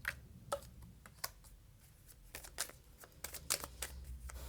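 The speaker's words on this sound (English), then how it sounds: "I'm just going to continue shuffling and see what comes out." Tarot cards being shuffled by hand up close, a quiet run of irregular papery flicks and soft snaps with no talk.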